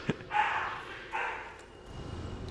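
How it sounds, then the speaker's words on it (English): Two pet dogs scuffle indoors, with short yips and whining barks in a few bursts that fade to a low rumble, fairly faint and close by. "And now my dogs are fighting."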